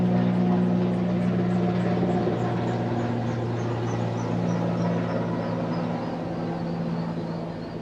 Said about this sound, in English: There's a lot of noise on helicopters just flying around here.